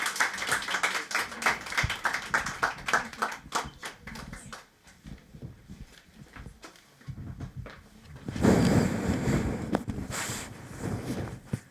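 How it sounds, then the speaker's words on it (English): Audience at a spotlight session applauding a guest, clapping from many hands that thins out midway, then wind buffeting on the microphone and a renewed burst of noisy clapping. "Please give a big round of applause for Ms. NEERJA Birla."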